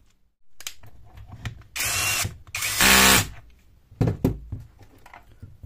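A power driver fastens bolts into the housing of a newer MLHY cordless hammer drill during disassembly work, giving two loud, close whirring bursts among lighter mechanical clicks and knocks.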